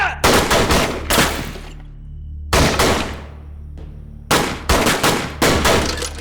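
Gunfire volley in a Hindi period film battle scene: several loud bursts of rapid shots, the first at the start, another after a pause, a third near the end, with ringing tails between.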